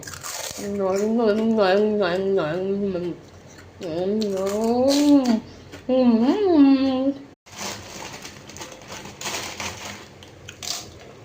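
A voice hums or talks first, then a puffed pani puri (fuchka) shell is bitten and eaten, giving close, loud, brittle crunching that continues for several seconds.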